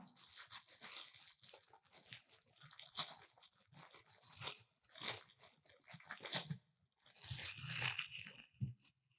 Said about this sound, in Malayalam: നമുക്ക് ഇതൊന്ന് അൺബോക്സ് ചെയ്തു നോക്കാം.